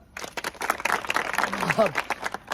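A crowd claps at a music event for a new Bhojpuri song: brisk, close clapping runs throughout while someone talks over it.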